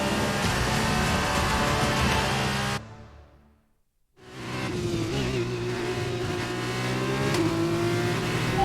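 F2 race cars race at Abu Dhabi in the F1 2021 video game, with loud, high-revving engines that cut to near silence for about a second. The engines then return at full roar under a steady whine.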